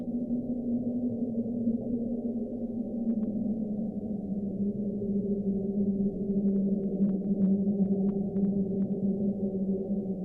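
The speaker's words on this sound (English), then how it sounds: "the source of the sound was most likely to be from a large iceberg that had run aground off Antarctica" A low, droning underwater rumble from a large iceberg run aground off Antarctica, with wavering tones that slowly rise and fall, steady and sustained throughout.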